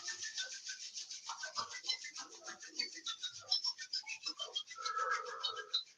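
Two palms rub briskly together to warm them during a Qi Gong eye exercise, a close, steady swishing friction in quick repeated strokes lasting several seconds, with no talking.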